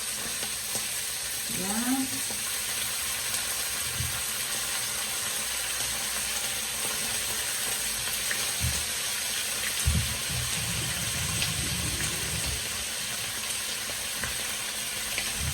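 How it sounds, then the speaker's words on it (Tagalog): A whole octopus dropped into a hot pan, giving a strong continuous sizzle and crackle with occasional low knocks and stirring scrapes, close and alone. "Matibuok na octopus. Ilunod ako diretso."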